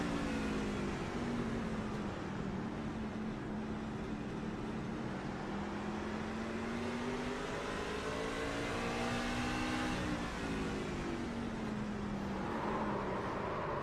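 Race truck engine in a racing video game at Martinsville, a steady loud drone with rising and falling revs that shift pitch across the lap, continuous and close, with no voices.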